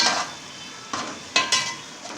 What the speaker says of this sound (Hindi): मिर्ची और हल्दी, इसको अच्छी तरह मिक्स करके भून लेंगे।